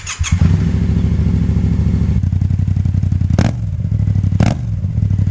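Motorcycle engine idling to warm its oil before an oil change, a close, steady, loud putter with brief throttle blips rising in pitch.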